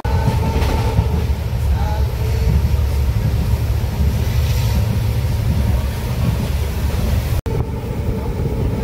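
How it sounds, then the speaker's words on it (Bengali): A passenger train pulls out of Malbazar station on a rainy day, a loud, steady rumble of wheels and carriages throughout, with a brief sharp break near the end. "মালবাজার থেকে এখন ছাড়লো ট্রেন"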